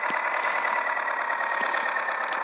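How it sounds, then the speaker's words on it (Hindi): A Ford tractor engine idles in a Farming Simulator game, a steady mid-pitched chugging hum with a faint knocking texture, heard alone. "फोड़ है भाई, ये फोड़ ट्रैक्टर है भाई बढ़िया।"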